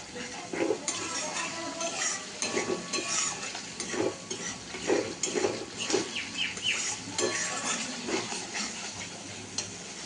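Salted pointed gourd fries in oil in a pan. A utensil scrapes and stirs it again and again in an uneven rhythm over a constant sizzle, close and fairly loud, with faint distant voices.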